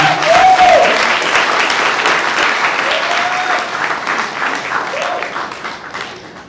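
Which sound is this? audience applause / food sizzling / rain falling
audience applause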